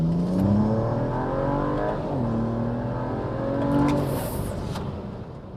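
BMW 335i N54 with an upgraded limited-slip differential accelerating flat out from 40 km/h, the engine note climbing steadily through the revs with a brief dip for a gear change, loud and close from inside the cabin, no talking.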